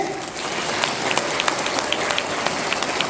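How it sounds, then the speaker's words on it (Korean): A hall audience at a Busan Ilbo auditorium rally against election fraud gives a sustained round of encouraging applause, dense and even throughout, with a few sharper claps standing out near the front. "우리 힘찬 격려의 박수를 부탁드립니다"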